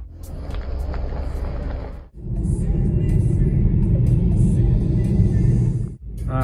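Car driving through the town of Gagra in Abkhazia, a steady close engine rumble and road noise inside the cabin, broken by two brief dips, with talk over parts of it.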